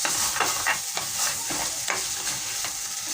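Egg stew being stirred in a pot, a utensil scraping and sloshing through it in repeated strokes over a steady close sizzle, no voices.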